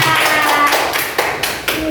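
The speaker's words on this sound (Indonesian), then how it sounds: "beri tepuk tangan yang meriah" Classroom audience of teachers clapping hands, loud and close, with a few sharp slaps standing out over a short burst.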